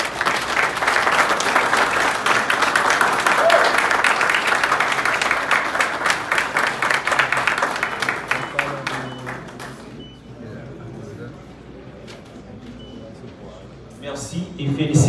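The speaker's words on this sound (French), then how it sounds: "sous vos applaudissements." Sustained audience applause fills a ceremony hall launching a university chair in protection and security law, loud and dense for about ten seconds before thinning to scattered claps, with voices speaking over the fading end.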